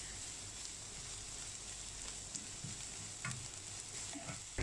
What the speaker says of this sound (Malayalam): ഇത് ജസ്റ്റ് പച്ചമണം മാറുന്നിടം വരെ ഒന്ന് ഇളക്കി കൊടുക്കാം.